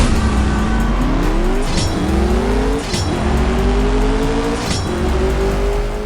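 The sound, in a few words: McLaren 720S engine revving in a racing video game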